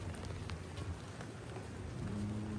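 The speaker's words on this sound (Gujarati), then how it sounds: "તો ઓલરેડી વરસાદ શરૂ છે" Rain falls steadily in a soft, even hiss of drops on surfaces, faint and unbroken, with no voices.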